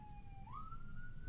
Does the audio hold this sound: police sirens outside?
yes